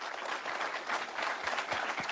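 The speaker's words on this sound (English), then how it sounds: "she deserves another even stronger round of applause" An audience at a Europlanet roadmapping session breaks into a strong round of applause, a dense, steady patter of many hands clapping at close range with no talk over it.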